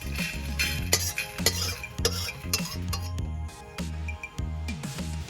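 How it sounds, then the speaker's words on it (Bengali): Whole spices for a traditional rohu fish head dal are dry-fried in a pan while being stirred, with steady clinks and scrapes of a utensil against metal over a soft background sizzle. "এবার মশলাগুলোকে দিয়ে ভেজে নেব।"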